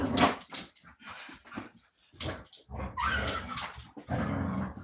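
Playful dog growling in rough, uneven bursts with yips and whimpery whines mixed in, close and fairly loud, no talk over it.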